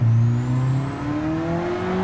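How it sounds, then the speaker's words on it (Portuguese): Car engine hums steadily and rises in pitch as the car accelerates on a race track, loud and close, with no talking. "Mas vamos ver um pouquinho do comportamento do carro na pista"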